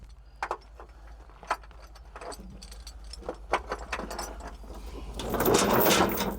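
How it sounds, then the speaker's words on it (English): A metal tow chain and hook clink and rattle in close, irregular handling sounds, followed by a longer scraping rustle, with an engine idling low underneath. "Pull the chain tight."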